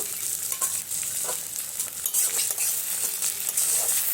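Chopped tomatoes and onions fry in a pan with a steady, bright sizzle, and a utensil gives a few soft scraping stirs throughout. No one speaks.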